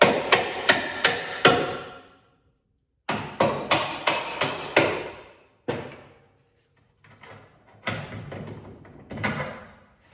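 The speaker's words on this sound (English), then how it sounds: "Grab our rubber mallet and tap these out." A rubber mallet tapping out control arm bolts on a 1988-98 Chevy K1500 truck: sharp, close strikes in quick bursts of four or five with pauses between, then a few lighter, scattered knocks.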